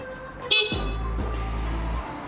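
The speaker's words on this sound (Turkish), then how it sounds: "Korna." A short, sharp horn toot from a Yuki Kaçkar three-wheeler sounds once, followed by its low engine idling steadily nearby.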